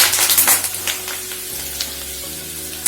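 Curry leaves fry in hot oil for butter murukku, a steady bright sizzle with crackling spits, a few pan knocks and stirring scrapes, close and alone with no voices.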